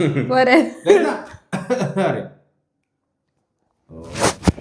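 A voice is followed by a short burst of rough coughing and throat clearing after a brief silence, close to the microphone.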